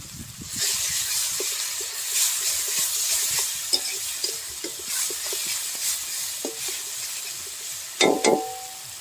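Cumin paste sizzles in hot oil with fried onions in a pan for a vegetable dal, a steady hiss broken by scraping stirs and a sharper clatter near the end.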